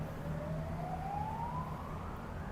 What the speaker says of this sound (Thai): เดี๋ยวเรารอให้รถหวอไปก่อน เพราะเขาจะรบกวนเสียงเรา